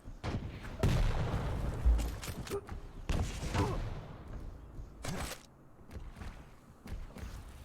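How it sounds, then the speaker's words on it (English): Rapid weapon fire from a Quake duel, a lightning gun crackling against rocket launches, with repeated sharp bursts and thuds at close range over about eight seconds, under steady game ambience. "Good LG by Siluro to the Rockets, but Corsair's LG just a little bit nastier"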